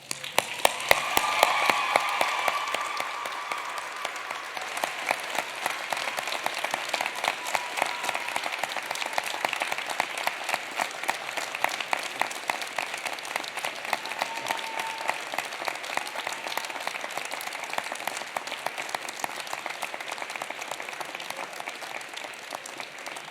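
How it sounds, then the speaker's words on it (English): A large crowd at a university nursing and rehabilitation medicine convocation claps in sustained applause, dense and steady for a long stretch, with occasional cheers early on before it gradually eases. "give them a huge round of applause"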